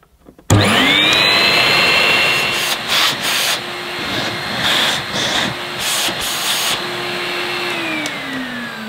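A National Capsule Footstool bagless vacuum cleaner switches on with a sudden loud whoosh and settles into a steady high whine with rushing airflow, close by, shifting slightly in pitch as it runs.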